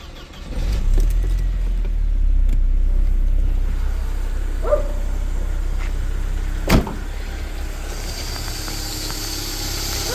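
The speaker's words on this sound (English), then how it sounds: "Let us now start the car." Car with a Bosch K-Jetronic or KE-Jetronic fuel injection engine being started and left running, a steady low rumbling idle with a few brief clicks and a sharp transient midway, heard close with no talk.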